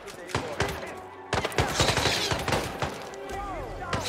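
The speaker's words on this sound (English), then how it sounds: "Ah, now everyone's shooting at me." Gunfire rattles in the video game Hitman 2, with loud rapid shots and bursts cracking in a dense volley alongside thuds and other game sounds.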